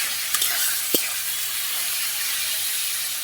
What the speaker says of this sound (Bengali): ধুয়ে রাখা শুটকিটা। দিয়ে এবার ভালোভাবে নেড়ে নেব।